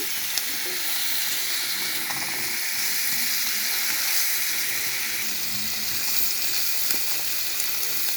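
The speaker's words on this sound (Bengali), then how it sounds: "পেঁয়াজ রসুন মরিচ আর চিংড়ি মাছ ভেজে নিচ্ছি" Onion, garlic, chilli and small shrimp frying in a pan, a continuous close hiss of sizzling oil with occasional faint clicks of stirring, steady throughout, no talk.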